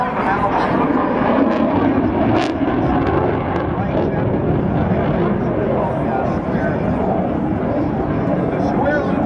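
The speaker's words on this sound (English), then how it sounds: "The square loop will test the limits of the power of the aircraft and also the maneuverability" A Bearcat fighter flies a square loop at an air show, its engine a steady loud roar throughout with a sharp burst near the start, while a commentator talks over it.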